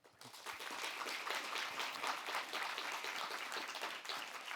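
Audience at a UCSC Science Internship Program reunion applauds the mentors, a soft, fairly distant wash of steady clapping that rises quickly and continues evenly.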